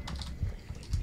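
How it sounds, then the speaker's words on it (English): Fast clicking of keys on a computer keyboard, a quick steady run of close taps with no voices. "I was typing."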